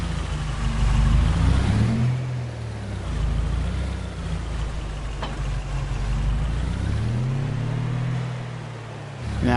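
A farm truck engine revs up and down in repeated surges, a loud low drone rising and falling several times, with no voices.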